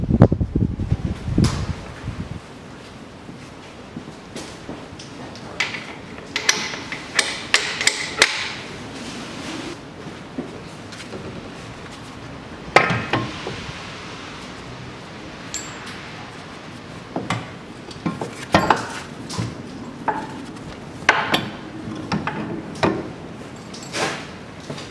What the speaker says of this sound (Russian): Все, можно вытаскивать привод.